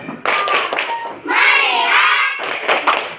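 Children in a classroom chant together in rhythm, mixing sharp group hand claps with sung syllables, a short clapping pattern followed by a sustained chanted phrase and more claps.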